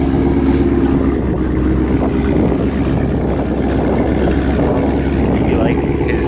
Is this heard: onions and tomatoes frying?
no